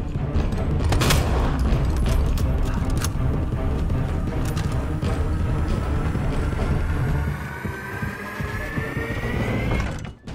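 Magnum gunshots fired at Mr. X in Resident Evil 2, loud booming shots amid dense game noise, followed by a rising whine as the action fades at the end.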